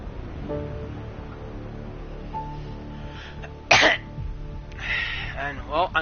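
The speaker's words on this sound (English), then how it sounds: "I know I just coughed" A single sharp cough bursts out near the middle, close to the microphone, set against a steady background of game audio.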